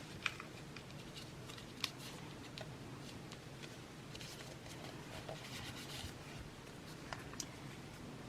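Scissors snip through fabric in a quiet, close-up setting, with a few crisp cuts standing out over a soft rustling background. No one speaks.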